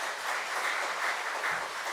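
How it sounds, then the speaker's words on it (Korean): A church congregation applauds to welcome the pastor to the pulpit, a dense, even wash of many hands clapping close and loud, continuous throughout with no talk over it. "우리 목사님 나오실 때 격려 환영의 박수로 환영해 주시기 바랍니다."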